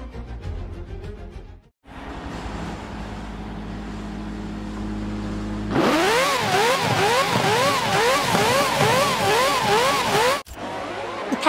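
F1 racing car engines in the Forza video game on a pace lap at Mugello, a steady loud drone that jumps to high revving with rising and falling pitch sweeps, then cuts off abruptly near the end.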